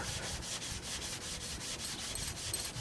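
A synthetic sharpening stone, one of a set of Naniwa Superstones, is lapped back and forth on nearly worn-out sandpaper, giving steady rhythmic scraping strokes about five times a second, close and continuous with no talk.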